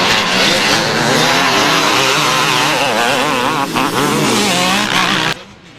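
A green Kawasaki motorcycle racing in a cross-country event, its engine screaming loud and close with constant revving and gear changes for several seconds before cutting off abruptly.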